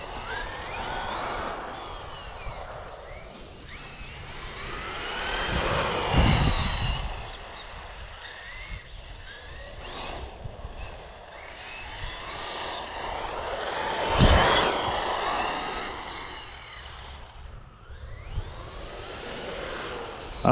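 A Traxxas Maxx V2 RC car on rubber track tyres laps figure-eights around a circuit, its electric motor whining up and down as it passes, swelling loudly twice when it sweeps close, then fading off.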